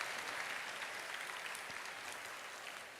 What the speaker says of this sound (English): So, dear students, give big round of applause to our Honorable Madhavan Nairji for his participation.